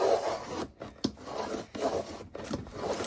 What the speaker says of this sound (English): So let's just cut them.